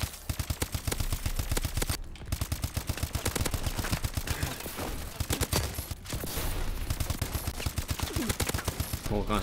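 Suppressed HBR rifle fire in Call of Duty: Advanced Warfare, a dense run of rapid, evenly spaced muffled shots that continues nearly without a break, with short pauses between bursts and some game sounds mixed in.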